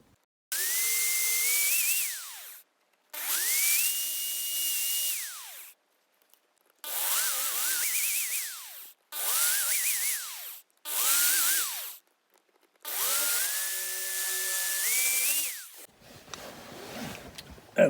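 A small drill bores holes into the metal base of a Corgi No 314 Ferrari Berlinetta 250 Le Mans diecast car in a series of steady whining bursts, each rising and falling in pitch, separated by brief pauses.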